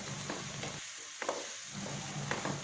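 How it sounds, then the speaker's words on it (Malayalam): Cubed capsicum stirred into prawn fried rice frying in a pan: a faint sizzle broken by soft scraping strokes of a spoon, quiet and close. "അതും കൂടി ഇതിലേക്ക് ചേർത്ത് ഒന്ന് ഇളക്കി കൊടുക്കുകയാണ്."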